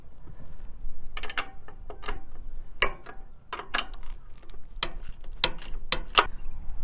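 A ratchet wrench loosens the bolts on an old alternator of a Massey Ferguson 231 tractor, with close, irregular bursts of sharp clicking separated by short pauses against a quiet workshop background.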